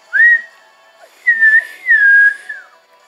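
A person whistles in real life during a Pokemon Shield game session, three clear, close whistled notes with short gaps between them, no speech.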